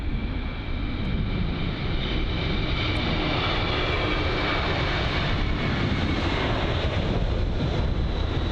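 Jet airliner taking off from London Heathrow in strong gusty winds, a loud, steady broadband engine roar that holds through the whole stretch with wind buffeting the microphone and no talk.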